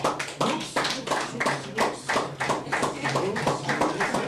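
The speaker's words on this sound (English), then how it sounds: "A round of applause" Audience applause greets new defender Sianda Kulu at a Kaizer Chiefs player unveiling, a spread of fairly close, uneven hand claps with a voice talking over them.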